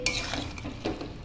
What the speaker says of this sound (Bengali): আর এর মধ্যে এখন আমি দিয়ে দিচ্ছি ফেটিয়ে রাখা টক দই